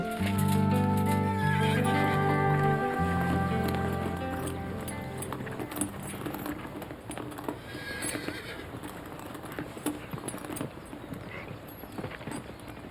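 A horse whinnies loudly up close, a long falling neigh, followed by a rhythm of hooves and movement that stays fainter in the background.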